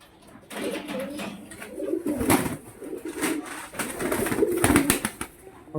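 Pigeons offered for sale coo softly and repeatedly, a low burbling murmur with a few louder clicks and rustles, fairly close, with no talk over it.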